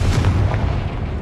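Confringo fire spell exploding in Hogwarts Legacy, a loud, booming blast that rumbles without break through the whole short moment.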